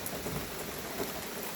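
Steady rain falling during a thunderstorm, a dense, even hiss heard outdoors with a faint low rumble beneath and no voices.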